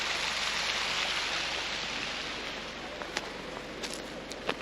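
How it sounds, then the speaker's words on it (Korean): A small stream flowing at a temple, a steady soft wash of running water, continuous and fairly faint, with a few brief splashes near the end. "작은 구동 개천이 있고 여기서 물이 흐르네요."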